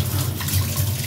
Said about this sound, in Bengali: এটাই গরম জল দিয়ে ধুয়ে নিলাম।